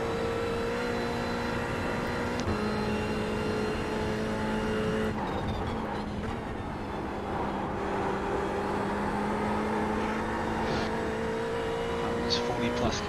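Packed field of 40-plus GT3 race cars circling Bathurst in a racing video game, engines droning and whining continuously with passing cars and shifting revs, a dense steady wall of motor noise.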